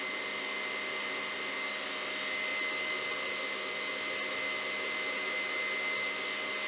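A KitchenAid stand mixer beats a batter for chips of the gods, giving a steady, unbroken motor whine with a faint tonal hum that holds at an even level from start to finish, with no voices.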